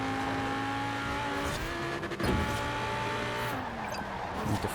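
McLaren race car in Forza Horizon 4 with its engine droning steadily at high revs, the pitch sliding down as it slows, then dipping and climbing again through gear changes, loud and continuous throughout.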